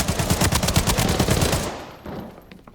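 Enemy gunfire in the shooter game Arena Breakout Infinite, a loud rapid automatic burst of close shots that stops abruptly and leaves quieter ambience, with no talking.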